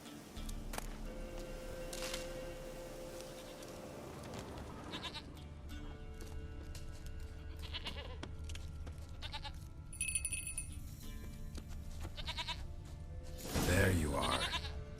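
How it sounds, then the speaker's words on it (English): A goat in The Witcher 3: Wild Hunt bleats in a few wavering calls over low game ambience and background sound, with a louder cry near the end. "Here, goat."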